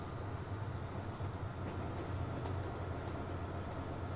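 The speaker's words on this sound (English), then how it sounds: "This one might be slightly slower, just a single unit pulling the train there." A train pulled by a single unit in the video game Transport Fever 2 rolls along with a steady, low rumbling drone, an even mechanical hum that stays constant throughout.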